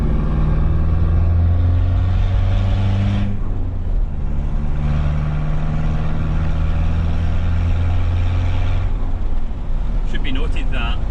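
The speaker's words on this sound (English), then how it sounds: "So I just want to see what it does in 5th gear when we play with the throttle." A Mitsubishi L200 K74 diesel engine with a boost controller revs under throttle in 5th gear, a loud steady droning roar rising and falling while people talk over it.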